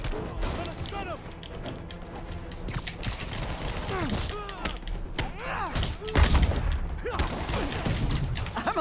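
Bursts of gunfire and impact thuds from the Spider-Man PS4 video game, scattered shots and rattling volleys mixed with whooshing web and combat effects, all under a busy game soundtrack.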